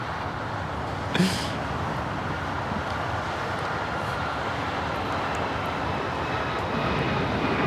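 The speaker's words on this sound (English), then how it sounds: "2377 taking off to Houston Intercontinental on the MAX 9" A United Airlines Boeing 737 MAX 9 departing LAX for Houston, a steady, fairly distant jet engine roar throughout with a brief clatter near the start and faint wind.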